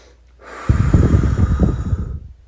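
A person takes a deep, deliberate breath in a guided breathing exercise. A soft intake is followed by a long, loud, rough exhale lasting about a second and a half that fades out near the end, with no talking over it.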